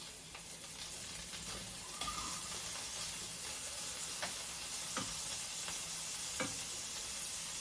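Butter sizzles and crackles in a pan already holding ginger and garlic, a steady, soft hiss with scattered pops and a few stirring scrapes, heard close up with no talking.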